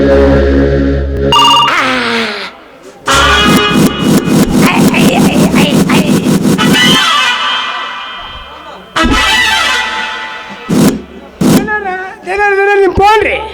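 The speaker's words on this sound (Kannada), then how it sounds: "ನಿಮ್ಮ ಫೋನ್ ರೀ" A telephone rings during a Kannada village stage drama in quick, repeated electronic bursts. Loud voices from the performance come before and after the ringing.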